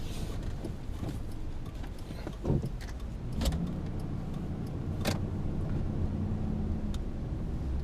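A car moving slowly up a school carpool line, its engine a steady low rumble from inside the cabin, with a few faint clicks and small rattles over it and no talking.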